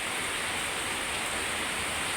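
A dense, constant hiss of falling rain fills the whole stretch, steady and fairly loud, with nothing else standing out.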